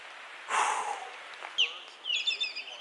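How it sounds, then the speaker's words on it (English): A large bird calls loudly near its big nest along the Pacific Crest Trail near Burney Falls, giving a harsh burst followed by several shorter squawks and chattering notes, close by. "Bird's making all that noise."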